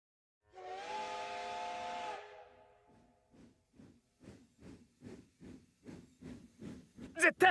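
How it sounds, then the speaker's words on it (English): A departing steam train in the video game Code: Realize sounds a loud sustained whistle for about two seconds, which dies away, followed by rhythmic chuffing that gradually grows stronger. "The train gradually becomes smaller. So too does the whistle fade."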